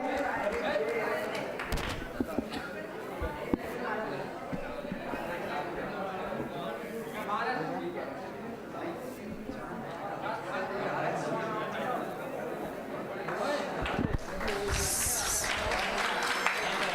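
Audience applause welcoming poets at a kavi sammelan, sustained clapping from a seated crowd mixed with chatter and a voice speaking over it.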